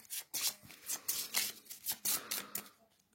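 Shuffling a deck of game cards for a solo Dungeons of Draggmar session: a run of quick riffling bursts, close and moderately loud, about a dozen papery flutters in steady rhythm with no voices.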